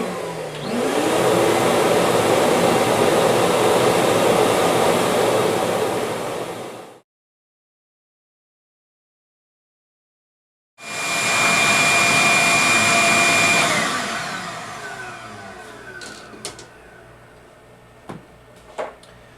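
A Summit HD Power Vac shop vacuum runs on low speed with a steady roar, cuts off for a few seconds, then starts again on high speed, louder and higher-pitched, before trailing off with faint clicks.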